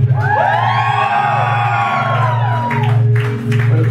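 Concert crowd at a small music venue in New Jersey, cheering, whooping and shouting loudly and continuously for a few seconds up close.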